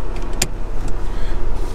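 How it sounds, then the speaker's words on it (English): A car left running before a drive, its engine fitted with cylinder head and transmission temperature monitoring, idles with a loud, steady, close low rumble, and a single sharp click cuts in early on. "I'll leave the car running, and then go for a drive around the block."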